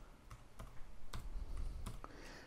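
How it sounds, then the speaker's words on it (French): Keyboard typing on a Boox Tab Ultra tablet setup, a handful of sharp separate key clicks at an uneven pace over a low steady background hum, close and fairly quiet. "un traitement de texte classique, où vous pouvez taper avec le clavier"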